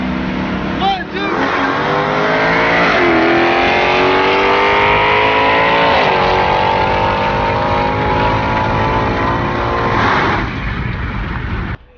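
A modded Dodge Hellcat making over 800 wheel horsepower and running on race fuel accelerates hard, its loud engine roar climbing in pitch through a couple of gear changes before cutting off abruptly.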